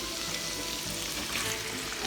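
Pork and sauce mix frying in a pan for palabok, with a steady, even sizzle close to the mic and no one talking.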